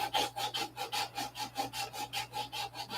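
Sanding filler smoothed over a model airplane fuselage, a steady back-and-forth rasping scrape in even strokes, about a dozen in three seconds, close and alone.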